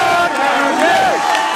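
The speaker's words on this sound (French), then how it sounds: "Fêtée la nuit dernière par une foule acquise à leur cause" Supportive crowd at a nighttime gathering backing a family's cause, voices massed into a loud, continuous cheer with rising and falling shouted tones, close and dense throughout.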